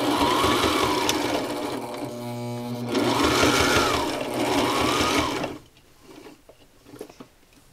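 A Sailrite Ultrafeed LS sewing machine stitches heavy fabric in a steady, loud mechanical whir with rhythmic needle thumping, broken by brief pauses, before it stops and leaves faint handling noises.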